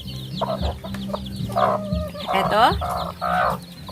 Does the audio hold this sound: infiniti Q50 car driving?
no